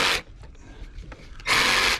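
Harsh buzzing power-saw bursts from a jigsaw with its blade tilted to about 45 degrees, cutting a bevel along a wooden cup holder tray, with a quiet gap between two loud, close cuts.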